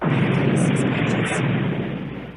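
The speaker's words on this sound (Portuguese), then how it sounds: "bastou o dedo mindinho de Gulliver na boca da arma para que ela se explodisse." A cannon blows up in one loud, sustained booming blast with rumbling low end that fills the whole moment and slowly fades toward the end, heard alone without talk.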